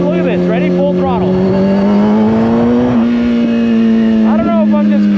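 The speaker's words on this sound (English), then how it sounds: "That is full throttle." A vehicle engine revving at full throttle, a loud steady drone that climbs slightly in pitch and holds, close by and continuous, with a few brief swoops layered over it.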